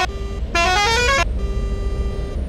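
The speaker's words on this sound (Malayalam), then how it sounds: "സാധാ ഹോൺ ഇതുള്ളൂ, നോർമൽ ഹോൺ." A Kerala bus in the Euro Truck Simulator 2 game sounds its normal horn: short bright tones with a louder, brassier blast in the middle, close and loud over a low engine drone.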